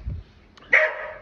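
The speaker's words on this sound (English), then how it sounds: "And dogs." A farm dog at a small farm shop selling raw milk and cream gives a single sharp, fairly close bark after a brief low grunt.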